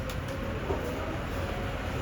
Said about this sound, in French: t'as vu le métro il est pas que souterrain